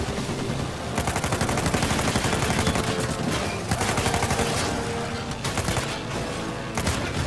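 Rapid gunfire in the video game Uncharted 4: dense bursts of automatic shots and loud reports crowd together continuously, sometimes dropping out briefly before starting again.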